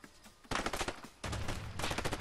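Gunfire from the video game A Way Out: a quiet lull, then a dense burst of rapid shots for about a second, a short gap, and a second sustained volley, loud and close throughout.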